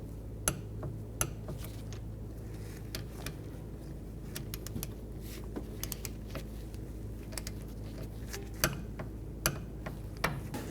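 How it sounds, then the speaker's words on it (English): Sharp, irregular clicks from a torque wrench tightening the rear brake caliper bolts on a 2011-15 Kia Sorento. The clicks come in scattered bursts over a low, steady background hum, fairly near but quiet overall, with no voices. "Now torque these bolts to 23 foot-pounds."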